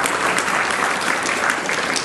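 A seated audience at an Indonesian Islamic talk breaks into steady, dense applause that holds evenly for the whole stretch, with no voices over it.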